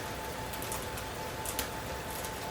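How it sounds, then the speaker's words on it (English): A steady, dense crackling hiss of potato soup ingredients frying in a hot pan, even and continuous at moderate volume. "That's the sound I was looking for. Actually, even higher sizzling sound is not bad."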